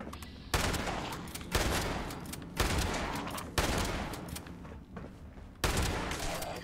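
Repeated bursts of loud video game gunfire in Fallout 76, six sharp volleys at roughly one-second intervals, each trailing into a reverberant decay.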